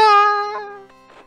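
A single drawn-out synthesized cat meow from King's Quest V played through a Sound Blaster card, bright and tonal, starting loud and fading over about a second with small trailing chirps.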